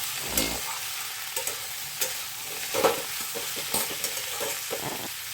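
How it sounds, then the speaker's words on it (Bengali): Broad beans and potato stirred in a frying pan: a steady soft sizzle with repeated scraping strokes of a spoon against the pan, close and fairly quiet, no talking. "এবার ভালো করে এটা নাড়াতে থাকছি"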